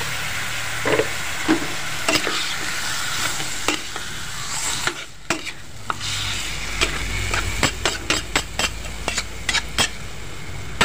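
Catfish meat sizzling in a hot pan, a steady bright crackle of frying across the whole stretch with scattered sharp pops and a few stirring knocks, close and fairly loud, no voices.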